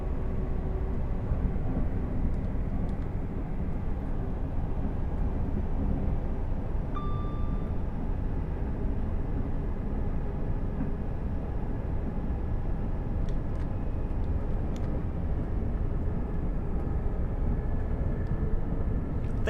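Steel wheels run on rails at speed in a Voyager train in the cab of Train Sim World 6, a continuous low rumble and roar with a few faint clicks and squeals.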